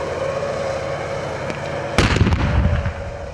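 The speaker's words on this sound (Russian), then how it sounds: "Оглушительные взрывы," A sudden loud blast bursts in over a constant background drone during a special forces training exercise by the Altai special-purpose unit "Legion", followed by a crackling, rumbling tail.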